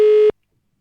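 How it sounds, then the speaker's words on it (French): A short steady electronic tone on a phone line during a radio call-in, a single clean beep lasting about a third of a second and then cutting to silence. "J'ai de nouveau cette petite sonnerie."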